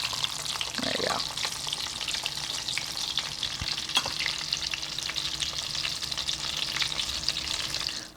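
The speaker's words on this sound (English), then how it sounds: "if you look at the oil after frying, pan frying" Close, steady sizzling of turkey cutlets pan-frying in oil, a continuous crackling hiss with a brief stir near the start.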